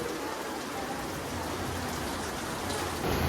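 Steady rain falls outdoors, an even hiss of drops on surfaces that stays constant throughout and swells slightly at the end.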